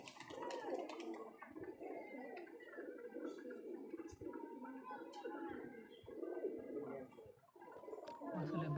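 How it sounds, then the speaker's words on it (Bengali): Domestic pigeons being fed in a loft give a dense, continuous chorus of throaty cooing and gurgling, close and busy, with soft flutters and faint voices mixed in. "দাদা ভাই, পায়রাগুলো খেতে দাও ভালো করে।"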